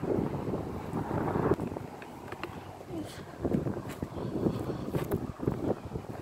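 Gusty wind buffets the microphone on a golf course in Hawaii, a rumbling, fluttering roar that rises and falls while people talk.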